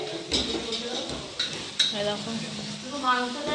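Meat cooking in a pot at a birthday gathering, a utensil scraping and clinking against the metal over a soft sizzle, with a voice talking nearby.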